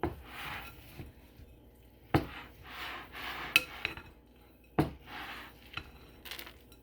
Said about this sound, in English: I'm just going to add a little bit and then just start mixing.